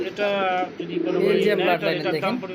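Domestic pigeons for sale coo at a market, a male calling in repeated throaty, rolling coos, loud and close, with people talking in the background.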